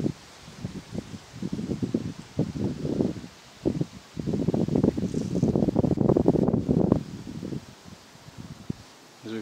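Wind blows across an outdoor old mill site beside a tall brick chimney, gusting as rough, rumbling buffeting on a microphone that swells and fades in waves, loudest midway, with leaves rustling faintly.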